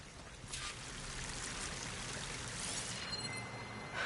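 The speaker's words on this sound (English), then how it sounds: "That waterfall must be coming from somewhere." A waterfall in the video game Horizon Forbidden West gives a steady, fairly soft rushing and pouring of water that runs on without a break and has no voices over it.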